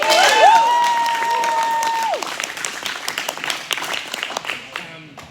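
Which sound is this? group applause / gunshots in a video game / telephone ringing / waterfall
group applause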